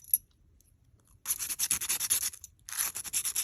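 A small drill fitted with a little sanding bit scrubs over a cowrie shell. A quiet pause comes first, then quick bursts of close, scratchy rubbing that stop briefly and start again.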